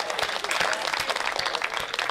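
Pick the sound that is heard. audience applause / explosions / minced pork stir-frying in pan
audience applause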